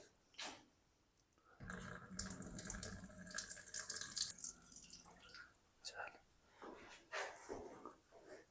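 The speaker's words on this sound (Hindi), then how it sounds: "सारा पानी जो है इसका निकाल देंगे, फिर हम इस पानी में डाल देंगे।" Water drains and splashes from a pot of soaked basmati rice for chicken biryani in a kitchen, a burst of pouring and trickling in the middle of the clip with quieter intermittent splashes and soft low voices around it.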